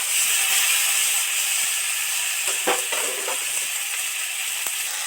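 Bitter gourd and potato frying in oil in a pan make a loud, continuous close sizzle and hiss, with a few brief clinks of stirring near the end and no talking.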